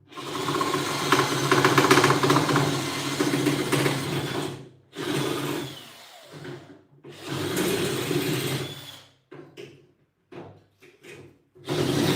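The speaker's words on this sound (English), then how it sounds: "And I hope my drill will work now." An electric drill whirs close by in several bursts, a long buzzing run followed by shorter starts and stops, grinding into the part being worked on, with no talking.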